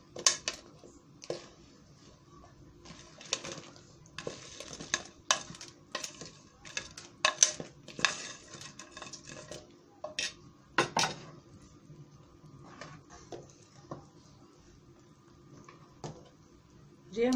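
Flour pakoras being stirred into kadhi in a pot, with a quiet background broken by repeated clinks and scrapes of a spoon against metal at an irregular rhythm.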